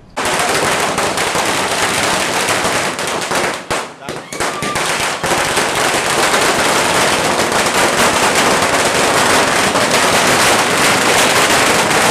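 Dense, continuous crackle of firecrackers set off by celebrating supporters outside a politician's office in Parasvada, loud and close, rattling almost without pause, with voices mixed in beneath the bursts.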